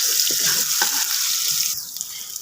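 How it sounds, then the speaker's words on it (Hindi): Garlic and ginger paste fries with onions for a vegetable pulao, giving a loud, close, continuous sizzle that drops slightly toward the end as the pan is stirred. "अब मैं एक चम्मच इसके अंदर लहसुन और अदरक का ये पेस्ट डालूँगा और इसको भी मैं हल्का ब्राउन करूँगा।"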